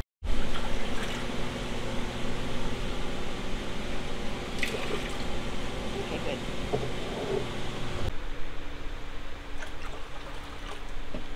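pH adjust solution pours steadily into a large hydroponic nutrient tank, a continuous close splashing stream that stops abruptly near the end, leaving quieter background.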